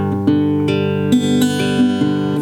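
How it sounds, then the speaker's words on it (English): Fingerstyle guitar picks a steady arpeggio pattern in 6/4 time, clean and close, with each plucked note ringing into the next and no voices. "A fingerstyle approach to playing in 6/4, another very common time signature."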